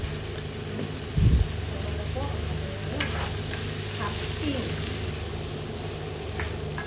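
Chop suey vegetables and beans stir-fried in a pan, a steady close sizzle with a brief scrape of the spatula early on.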